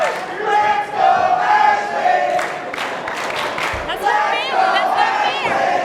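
An arena crowd at a CCW wrestling show in Port St. Lucie cheers and yells, with mixed voices shouting and whooping in a loud, sustained roar from a split audience.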